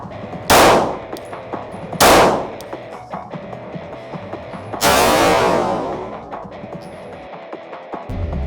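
Three loud pistol shots fired with a loosely held, poor grip on an outdoor range, two in quick succession and a third after a pause, each sharp crack ringing out with a long decaying tail.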